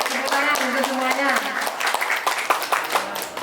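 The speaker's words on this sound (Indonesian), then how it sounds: "Tepuk tangan untuk semuanya" An audience claps at a village competition assessment event, a scattered round of applause rising beneath a voice speaking over it, then thinning into a few isolated claps.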